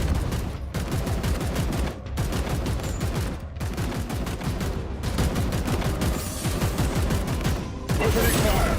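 Weapons opening fire in rapid, dense bursts, a continuous rattle of shots broken by a few brief pauses, loud and close, with a faint voice briefly beneath.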